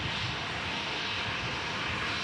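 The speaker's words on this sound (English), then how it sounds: "check a look at this old 737" Steady, broad roar of a Boeing 737 airliner at Dallas Love Field, a loud continuous jet rumble and hiss with no break through the whole stretch.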